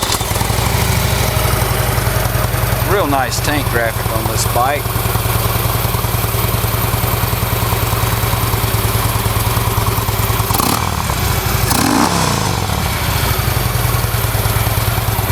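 Harley Davidson Ultra Limited FLHTK with a 103 motor idles loud and close, a steady rumbling lope throughout while someone talks over it.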